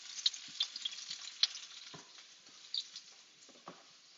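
Couscous stirred in a frying pan with a spoon, giving soft scraping and light sizzling taps at an irregular pace, fairly quiet and close with no talking.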